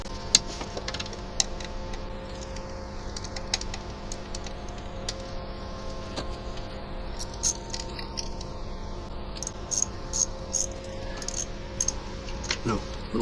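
Thermostat housing bolts are worked loose on a 2019 Ford Fusion with a hand tool, giving scattered small metallic ticks and clicks near the engine over a steady background hum, with some talk.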